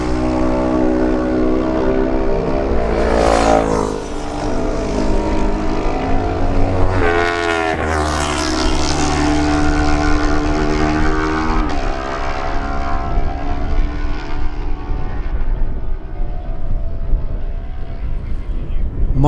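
Kawasaki lightweight racing motorcycles at the 2018 Manx Grand Prix tearing past one after another, each engine note swelling and dropping sharply as it passes close, while a commentator talks over the roar.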